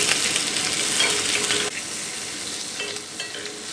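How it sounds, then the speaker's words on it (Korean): Asparagus frying in a pan with olive oil, butter and rosemary, giving a steady close sizzle that drops slightly in level partway through and carries on alone without talk. "저는 아스파라거스를 구울게요"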